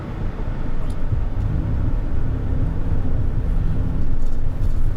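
Cabin of a Lexus LM500h hybrid minivan under acceleration to about 2200 rpm, a low, muffled rumble of engine and road noise that swells slightly toward the end, steady and subdued, with no talking.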